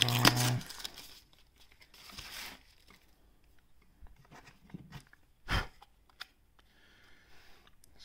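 A plastic protective sticker is peeled off a glossy true wireless earbud charging case, giving a loud crinkling tear at the start, then sparse, quieter crinkles and handling clicks, with one sharp rustle near the middle.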